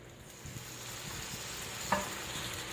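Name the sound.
chicken thigh frying in oil in a pan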